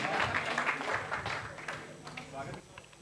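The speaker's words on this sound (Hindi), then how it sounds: "एक बार जोरदार तालियां पहले ही बजाइए आप।" An audience at a kavi sammelan poetry recital in Lucknow claps throughout, with the applause fading slightly toward the end and voices heard among the crowd.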